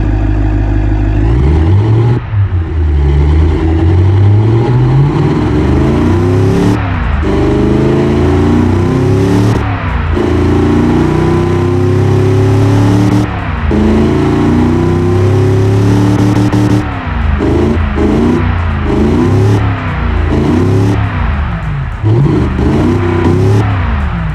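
A powerful Cadillac 500ci V8 engine in the Automation game revs loudly and continuously, climbing and dropping in pitch as the throttle opens and closes, with no talking.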